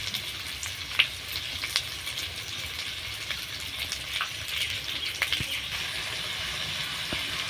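Spices fry in a pan for a banana flower and prawn curry, producing a steady hissing sizzle with occasional soft stirring clicks, close and fairly quiet.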